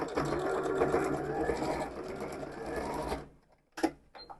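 A sewing machine stitches a bag seam back and forth, running steadily with a fast, close mechanical whir for about three seconds, then stopping, followed by a few sharp clicks.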